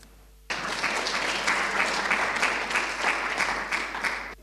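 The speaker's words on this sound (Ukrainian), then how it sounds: "оплески випускникам, які отримують дипломи" Applause breaks out suddenly for graduates receiving diplomas at an MBA ceremony, a dense crowd of hands clapping steadily and evenly after a brief quiet opening.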